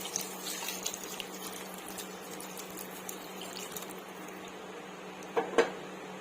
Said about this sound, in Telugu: హీట్ వాటరే వేసేసుకుంటున్నాను.